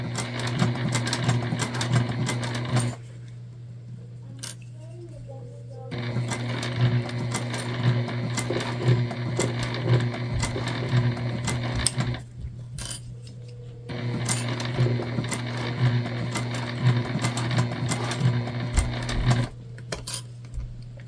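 A sewing machine stitches a shoulder bag in three long bursts of fast, steady needle chatter at moderate loudness, separated by short pauses, with faint clicks and no speech.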